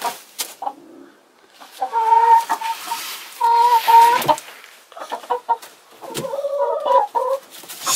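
A Polish rooster clucks and calls in several loud, close bursts of nasal, warbling notes, separated by short pauses, with no voices over it.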